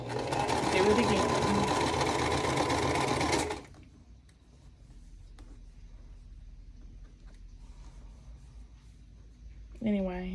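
A sewing machine stitches a quilt block, a fast continuous mechanical whir for several seconds before stopping, after which only quiet room sound and faint handling remain.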